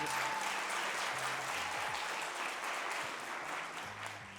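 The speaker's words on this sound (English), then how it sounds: "we're going to give another round of applause for you" Audience applause at a school district's State of the Schools address, a sustained round of clapping that stays steady throughout before easing slightly at the end.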